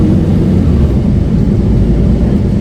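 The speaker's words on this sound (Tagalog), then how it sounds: "May paalis na eroplano po." An airplane departing overhead near a bus route to Millbrae BART: a loud, steady low roar of engine rumble fills the whole stretch without letting up.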